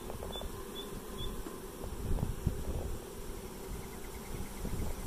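Honey bees droning at a hive body with frames during a swarm, some fanning at the entrance; a steady, close, low buzz with wind noise over the microphone and no talk.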